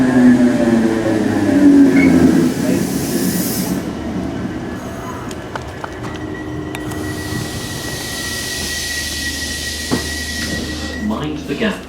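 Train pulls into a station, starting with a loud rumbling approach and hiss, then settling into softer rolling and brake squeal with a thin high whine as it slows; people talk over parts of it.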